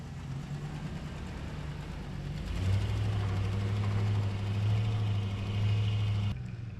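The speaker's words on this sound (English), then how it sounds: "I'm going to pull the truck around and unload it" A pickup truck's engine idles with a steady low hum, growing louder and deeper partway through as the truck is pulled around, then cutting out abruptly near the end.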